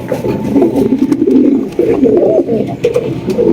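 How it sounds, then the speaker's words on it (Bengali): A pair of high-quality maxi racer pigeons coos steadily up close, low throaty rolling calls filling the whole stretch with no talk over them. "পেয়ারটার ডাকটাও আমার কাছে অনেক ভালো লাগছে"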